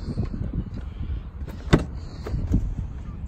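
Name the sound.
electric windows of a 2009 Mercedes C220 AMG operating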